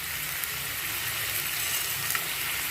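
Whole spices and potatoes frying in oil at medium heat, a dense, steady sizzle that stays even and close throughout with no pauses.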